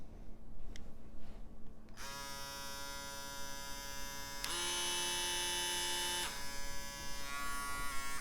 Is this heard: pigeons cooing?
no